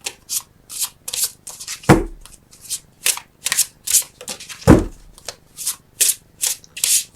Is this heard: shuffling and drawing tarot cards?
yes